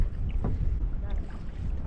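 Wind buffets the microphone on a canoe trip across a Boundary Waters lake, a loud low rumbling gust with brief splashing, lasting under two seconds and with no talk.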